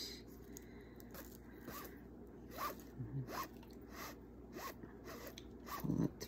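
Thread is pulled through a small pine needle basket with a walnut center in repeated soft zipping rasps, about six quick pulls spaced roughly a second apart, close but quiet.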